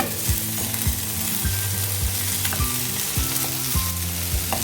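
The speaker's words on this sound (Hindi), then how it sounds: "इधर कोहड़ा भी फ्राई हो गई है" Pumpkin pieces frying in hot oil, a dense continuous sizzle with regular soft clinks and scrapes of a utensil against the pan, close and steady with no speech.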